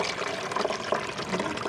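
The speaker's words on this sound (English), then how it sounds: "So carefully I will pour some in here, and you should see the level start to rise." Coolant poured into the reservoir of a 2000 Toyota Camry during a thermostat gasket repair, a steady close liquid trickle and gurgle filling the container, continuous and alone.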